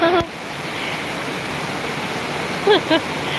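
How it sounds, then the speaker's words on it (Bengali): Steady rain pours outside an open balcony as a broad, even hiss that runs throughout, with a few brief bird chirps near the end. "আর বৃষ্টির সাউন্ড নিশ্চয়ই পাওয়া যাচ্ছে"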